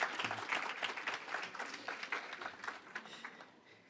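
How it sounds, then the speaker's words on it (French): An audience applauds for a child who has just dropped into an adult's arms. Steady, moderately loud clapping carries through the whole stretch with no talk over it. "Est-ce qu'on peut applaudir Charlie bien fort"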